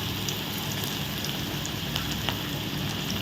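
Pakoda fries in hot oil with a dense, even crackle like light rain, close and constant, with scattered brighter pops.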